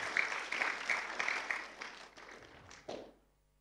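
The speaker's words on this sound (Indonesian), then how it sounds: "Kita kasih aplaus buat Bapak Ibu guru sekalian." An audience at a junior high school graduation claps for the teachers, a short burst of applause with a few sharp individual claps that fades out within a few seconds.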